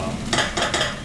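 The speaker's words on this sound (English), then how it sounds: "So we're going to stir that up real nice and good." A spoon stirs tomato paste through vegetables in a cooking pan, making three distinct scraping, sloshing strokes over a soft background sizzle, close and fairly loud.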